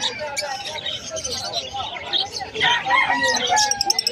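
Japanese crested chickens are for sale at a busy Sunday market. Several birds crow and cluck nearby in overlapping calls, while people talk in the background.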